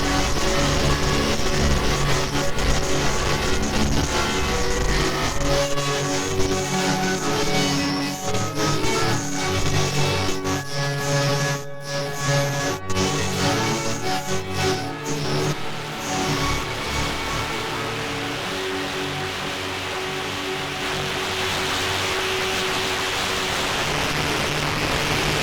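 Sherman Filterbank distortion modulated by an LFO and envelope followers gives a dense, loud, continuous wash of gritty noise with sustained tones and slowly shifting texture, plus a couple of brief dropouts near the middle, with no voices.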